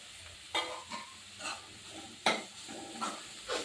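Carrots and curry leaves being sautéed in a pan for Chettinad kara kuzhi paniyaram batter: a soft continuous sizzle broken by several sharp scraping stirs of a spatula against the pan, close and fairly quiet.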